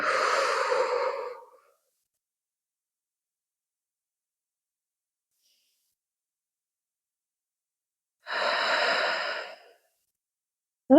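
Deep breaths drawn in and let out during a chest mobility exercise, two long breaths several seconds apart, each strong and close, with silence in between.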